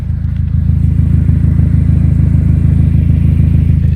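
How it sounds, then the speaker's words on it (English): A Mazda Miata engine with an aftermarket exhaust runs loud and close, a deep, steady, pulsing drone with a rapid throb that holds evenly throughout. "I'm gonna give it a few revs so you guys actually know what it sounds like."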